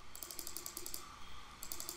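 Computer keyboard typing in quick bursts of soft clicks, a run of keystrokes, a pause, then another short burst, fairly quiet and close with no talking.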